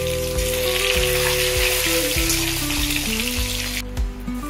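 Eggs fry in white oil in a hot kadai, producing a loud, steady sizzling hiss that runs throughout beneath prominent melodic background music.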